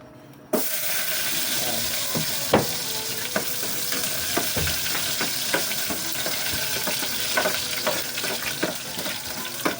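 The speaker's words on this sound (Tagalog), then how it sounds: "Gigisa tayo ng luya" Ginger hits a hot pan and starts to sauté, bursting into a loud, sudden sizzle that holds steady with scattered pops and spatula clinks nearby, in a home kitchen while chicken tinola is being cooked.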